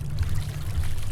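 Water being poured into a container in the survival game Miscreated, a steady low gurgling fill lasting about a second, close and fairly loud with no voice over it.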